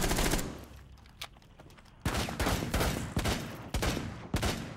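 Rainbow Six Siege gunfire hits in rapid bursts: a fast volley at the start, a single shot, then sharp repeated automatic bursts after a short lull, loud and close.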